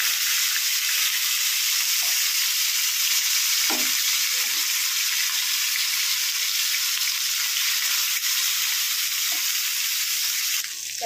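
Four koi fish (climbing perch) fry in hot oil for tel koi, making a loud, unbroken sizzle with crackling spatter and a few soft clicks of a utensil near the pan.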